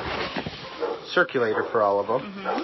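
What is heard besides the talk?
dog barking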